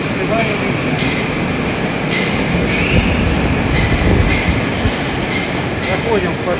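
A Moscow metro train on the Big Circle Line rumbles loudly and steadily close by, with continuous rail noise, wheel hiss and faint squeals throughout.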